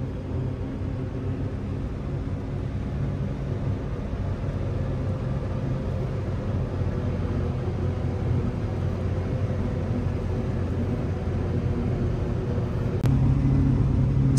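A steady, low rumble of a forage chopper working a corn field with tractors and trucks running nearby, a constant droning engine noise heard from inside the cab with no breaks.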